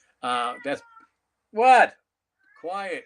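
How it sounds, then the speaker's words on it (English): A blind cat meows three times close up, drawn-out rising and falling cries, with a person speaking briefly between them. "I got a blind cat I take care of."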